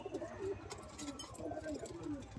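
Pigeons, including young Giribaz birds, coo repeatedly in low, throaty bursts close by, with faint rustling behind them.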